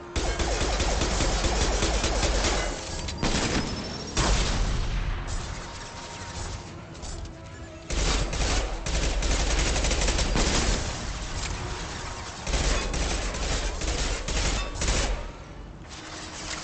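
Pistol shooting in Mass Effect 2 amid a chaotic firefight, with dense overlapping shots and bursts filling the whole stretch, loud and close with brief lulls.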